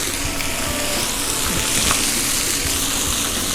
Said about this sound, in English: You can really hear it sizzling there.